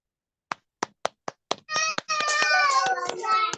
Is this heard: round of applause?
yes